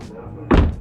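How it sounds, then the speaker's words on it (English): A brief mechanical clunk as a C8 Corvette's door latch releases, close and solid, after near silence. "Opening the door."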